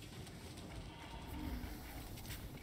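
Three cows in the video game Helldivers 2 low faintly, their calls buried in a dense wash of steady game noise.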